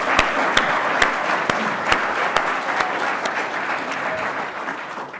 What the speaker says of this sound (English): Can I just have a round of applause for the guys that have organised this?